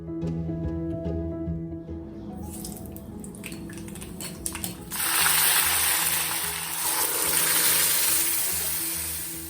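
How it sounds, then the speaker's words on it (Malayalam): Mustard seeds frying in a pan for a chutney tempering, starting as scattered crackles and pops, then swelling into a loud, dense, steady sizzle that continues to the end. "ചട്നിയും കൂടെ ഒന്ന് കടുക് വറുത്തെടുക്കട്ടെ."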